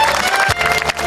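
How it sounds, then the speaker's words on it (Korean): A dense, steady wash of clapping from a large crowd at a city day opening ceremony, loud and continuous for the whole moment. "박수로 환영해주시기 바랍니다."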